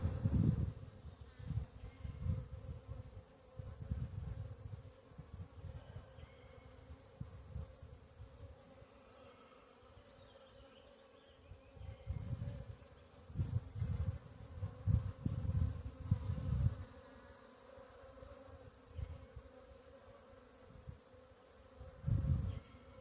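A dense, steady hum of honeybees in an open hive during an inspection, with queen cells and capped brood present, swelling and easing in low pulses throughout, close and continuous with no talk.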